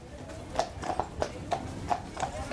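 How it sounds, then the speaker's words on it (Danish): Horse hooves of a horse-drawn carriage clip-clop along a street in a steady, even rhythm, close and distinct over faint background noise. "Så kommer hestevogn."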